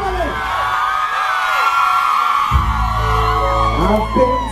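A concert crowd screams and whoops loudly and continuously, a dense wall of voices with shouts rising at the start and again toward the end.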